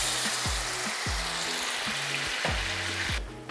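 White wine hits a hot pan of crispy guanciale for bucatini all'amatriciana and sizzles loudly and steadily, with rhythmic stirring scrapes throughout.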